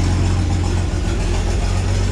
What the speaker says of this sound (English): I can just hear the exhaust blowing out of multiple places on that catalytic converter.